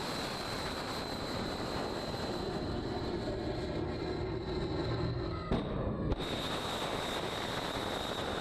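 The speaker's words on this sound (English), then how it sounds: "You can see here some of the planes taking off these aircraft carriers." Military jets roar steadily off an aircraft carrier deck, a loud continuous engine wash with a brief abrupt break partway through before the roar resumes.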